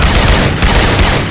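Loud, close weapon fire from the Syphon Filter game sounds, swapped into the co-op shooter Left 4 Dead 2, comes as a dense rapid burst of booming shots across the whole moment.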